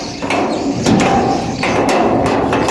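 A metal gate at an off-grid home bangs and clatters several times as the wind swings it, over steady wind noise, with loud, irregular impacts close by.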